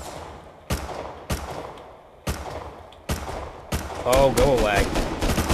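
Gunshots ring out in the survival game Rust inside a military tunnels monument, six loud single reports spaced about a second apart with short echoing tails, the last ones under a man's muttered speech.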